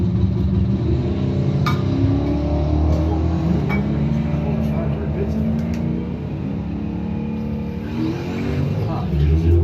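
Drag strip launch at a points event: a 2008 Dodge Ram against a 1992 Mustang, engines roaring and revving loudly as they pull away, with an announcer talking over the continuous engine noise.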